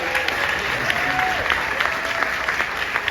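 An audience applauds and cheers to welcome a speaker, loud, dense clapping throughout with scattered crowd voices mixed in.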